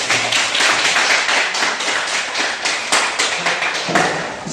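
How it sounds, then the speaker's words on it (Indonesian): A school class claps their hands together in a classroom, a brisk, dense burst of rhythmic clapping that carries on steadily for several seconds, close and loud. "tepuk tangan dulu Pak."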